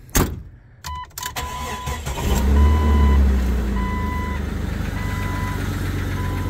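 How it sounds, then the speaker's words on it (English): A Jeep Cherokee XJ cranks briefly, then its engine catches and settles into a steady idle, heard close and fairly loud, with a repeating chime sounding over it. "Now let's start her up."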